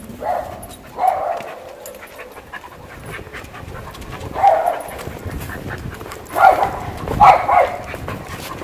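A dog pants softly nearby, with a few louder breathy huffs rising and falling over quiet background.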